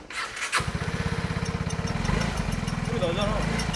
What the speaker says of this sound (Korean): 엔진에서 이상한 소리 나는 것 같은데?